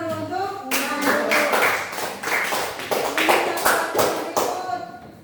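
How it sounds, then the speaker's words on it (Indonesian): A classroom audience claps together for a student presenter, a dense, steady burst of hand claps lasting several seconds with faint voices mixed in. "Tepuk tangan dulu untuk Nando."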